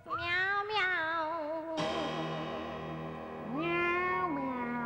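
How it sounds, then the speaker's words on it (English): Cartoon-like singing cats meow in long, tuneful, wavering notes, several calls one after another, loud and close with no talking over them. "They happen across some singing cats."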